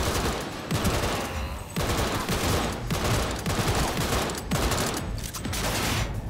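A gun firing short bursts in the video game Cyberpunk 2077: loud, dense rapid gunfire in repeated bursts separated by brief gaps, filling the whole stretch.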